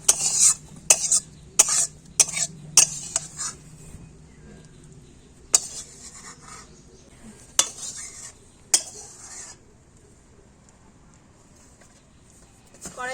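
Cooked meat is spooned from one metal cooking vessel into a pot, producing a string of sharp metallic clanks and scrapes, loud and close, that thin out into sparse knocks with quiet stretches between.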